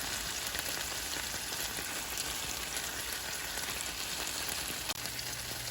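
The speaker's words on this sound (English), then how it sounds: "So just brown up your other side the same way" Chicken cutlets sautéing in a pan, with a steady, dense sizzle and crackle that holds close and even throughout; a small clink near the end.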